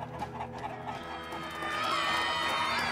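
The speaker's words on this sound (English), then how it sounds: "Out of my way, chickens!" Chickens cluck in the Minecraft Story Mode video game, a busy stretch of fowl chatter over game music and noise that grows louder and denser toward the end, with no talk.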